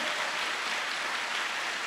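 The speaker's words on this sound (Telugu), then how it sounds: "చప్పట్ల కొట్టి సంతోషించండి అందరూ" A church congregation clapping hands during a Bible study meeting, a dense, even patter of many hands heard from a distance, faint and steady with no voices.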